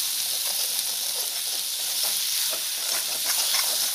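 Red chili powder and spices cooking in a pan for chole, giving a steady, close sizzling hiss with faint stirring scrapes that runs unbroken throughout.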